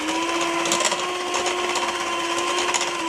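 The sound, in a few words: hand whisking eggs into cookie batter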